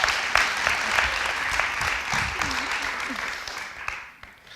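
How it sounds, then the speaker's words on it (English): Audience applause at the Oslo International Acting Festival greets a guest, a steady crowd clapping at moderate volume with a few voices murmuring underneath before it fades out at the end. "Give her an applause."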